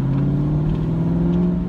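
An Aston Martin V8 Vantage engine shifting at 2,500 RPM around town, a steady, subdued low rumble that hums on without a break and with no talking.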